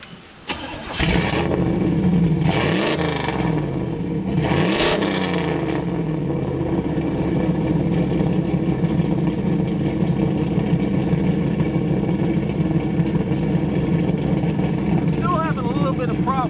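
A Z28 car engine with big cams cranks and catches, then settles into a loud, lumpy idle that runs steadily, with a voice briefly heard over it.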